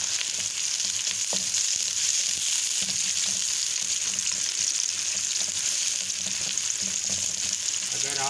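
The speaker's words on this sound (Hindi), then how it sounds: "सबसे पहले हम प्याज डालेंगे, बिस्मिल्लाहिर्रहमानिर्रहीम, और इनको अच्छी तरह हम फ्राई करेंगे।" Onions fry in hot oil in a karahi pan, a dense continuous sizzle with occasional spoon scrapes, steady and close throughout.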